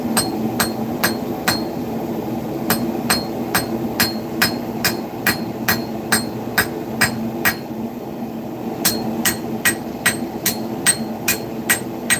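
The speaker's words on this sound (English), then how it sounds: "Start by forging the point." Steady, evenly spaced hammer blows ring out on hot steel as the point of a small everyday-carry knife is forged, about twenty sharp metallic strikes with a short pause midway, close and loud over a low background hum.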